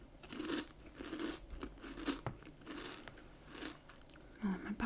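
Close, soft chewing of cereal that is softer than expected, with a series of muffled bites and mastication sounds repeating steadily in a quiet room.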